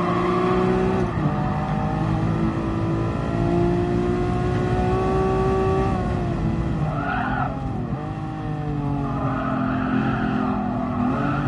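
A Lamborghini Diablo race car in Gran Turismo Sport holds a loud, steady engine note that rises and falls through gear changes, with tires squealing and skidding over it. No one talks.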